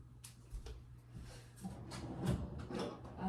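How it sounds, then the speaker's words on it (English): Kitchen drawers slide open and shut in quick succession during pizza preparation, a few soft clunks and rattles close by and fairly quiet, with no talking. "Wrong drawer. Wrong drawer. Right drawer."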